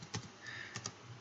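A few quiet keystrokes on a computer keyboard while entering a disk command, heard as scattered light clicks with short gaps between them.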